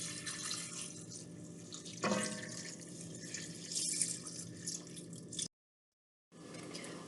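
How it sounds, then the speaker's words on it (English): Water runs from a tap into a stock pot holding chicken bones and vegetables, a soft continuous splashing with a brief louder gush, then a short silent gap before flow resumes. "I'm going to cover it with water"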